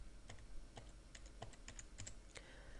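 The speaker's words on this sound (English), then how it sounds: "type in the name of the document you want to find" Typing on a computer keyboard, faint irregular clicks of separate keystrokes spaced unevenly over a quiet background, no voices.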